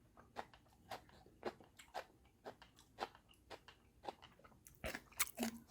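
Crisp bites and crunchy chewing of a raw snow pea, a steady series of close, sharp crunches about every half second, growing denser and louder toward the end.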